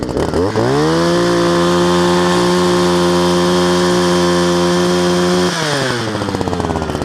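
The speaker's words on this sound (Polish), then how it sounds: "I nasze wiertło, i nasze wiertło wierci." Motorized ice auger started up and drilling through lake ice while fishing, a loud close two-stroke engine whine that revs up sharply, holds a steady pitch, then drops into a choppier lower rumble as it bites.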